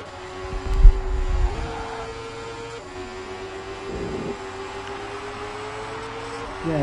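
A race car in Monoposto 23 passes Stroll during a career-mode Hungarian Grand Prix, its engine droning in a steady, shifting whine with a brief louder surge early on, and faint talk underneath.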